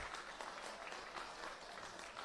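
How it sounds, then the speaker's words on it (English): Supporters at a semi-final football match applaud from the stands, a steady wash of clapping that sounds faint and distant throughout, with no voices heard. "Inglewood supporters generous in their round of applause."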